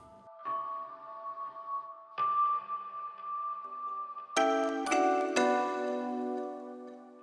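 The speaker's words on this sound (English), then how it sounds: "There's also a glockenspiel, which adds as a counter melody" Bright, bell-like glockenspiel tones ring out one at a time with long sustains as a counter melody, building into a louder cluster of chiming notes near the end.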